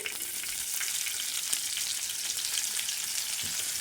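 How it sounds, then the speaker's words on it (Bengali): Chopped onion sizzles in a little oil on a hot griddle, a steady bright frying hiss with faint crackles, close and continuous, with no talking. "চাটুতে অল্প পরিমাণে তেল ছিল তাতে দিয়ে দিচ্ছি পেঁয়াজ কুচি"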